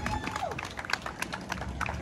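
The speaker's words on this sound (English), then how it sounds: "Another round of applause." An outdoor crowd at a Lansdowne, Pennsylvania bike lane community event breaks into a round of applause, a steady patter of many hands clapping at moderate distance.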